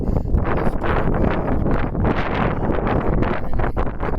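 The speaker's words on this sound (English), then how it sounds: "Oh, sorry about the wind." Constant heavy buffeting of wind against a microphone in the Abiquiu, New Mexico badlands, a loud rumbling roar that fills the whole clip with no pauses.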